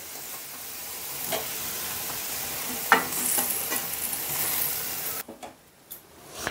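Potato and soybean curry with added water bubbling and hissing gently in a pot over a low flame, a steady broad simmer with a few soft clicks and knocks before it drops quieter near the end.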